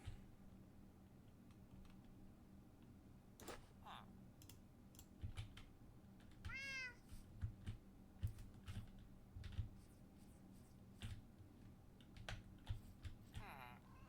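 A cat meows in the video game Minecraft: two short, whiny calls, one near the middle and one at the end. They are faint and sit among scattered keyboard and mouse clicks.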